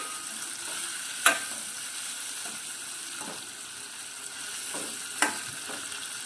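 Bitter gourd sizzling steadily as it fries in a pan, with a couple of sharp clinks from stirring and a low kitchen hiss underneath, no voices present.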